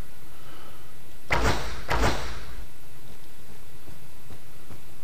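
Two quick, punchy thuds about half a second apart, near and loud, from a snowball being thrown in an older version of Minecraft, followed by a quiet background.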